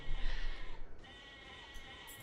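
A single sheep bleat from the video game Overdungeon wavers for about a second over a steady game backdrop.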